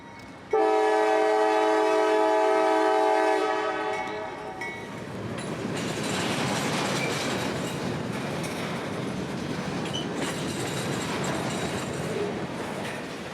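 CSX freight train G396 entering a siding at Emerson, Georgia: a loud multi-tone horn blast for about three seconds, then a sustained rumble and rolling clatter of cars passing nearby.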